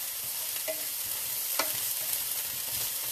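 Croutons fry in a pan with a close, constant hissing sizzle and a couple of brief stirring taps.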